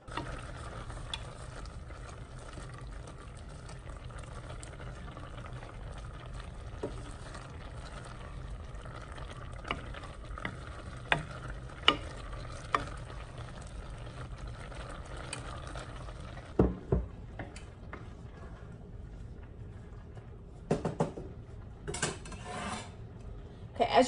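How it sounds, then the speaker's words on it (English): Raisins boil and simmer in a pot of water, with scattered clicks and light clinks of a utensil stirring, fairly quiet and close. "As your raisins are finishing boiling"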